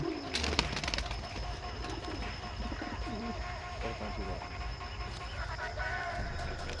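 A breeding pair of red jira pigeons coos softly and repeatedly at close range, the low murmuring calls running steadily under faint background noise, with a brief rustle near the start.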